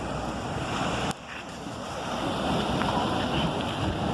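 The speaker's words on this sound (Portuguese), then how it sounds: "Ele tá observando a onda dos mares." Sea waves break and wash along a shore in a continuous, loud roar, with gusty wind buffeting the microphone and a brief dip in the surf near the start.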